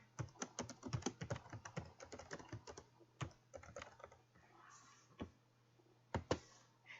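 Quiet, close typing on a computer keyboard, a rapid flurry of light key clicks that thins into scattered taps and a final few presses over a faint steady hum.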